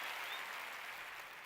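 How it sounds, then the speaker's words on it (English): An audience clapping, a soft, even patter of many hands heard faintly and at a distance for a second or so. "I forgot about the claps"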